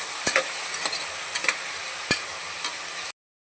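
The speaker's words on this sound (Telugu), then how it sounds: "టమాటా ఉల్లిపాయలు వేసాను ఆయిల్లోని" Tomatoes and onions frying in hot oil for gongura mutton curry, stirred with a spatula: steady sizzle with several sharp scraping knocks, then abrupt silence at the end.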